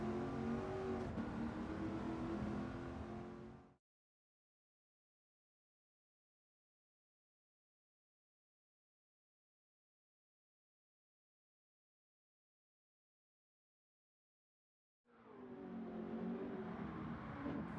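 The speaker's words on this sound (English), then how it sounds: "It's an incredibly raw drive out of this old school thumping V8." A 1969 Ford Mustang Boss 429 V8 revs hard in Gran Turismo 7, a loud, raw engine roar that cuts out into a long silence before surging back.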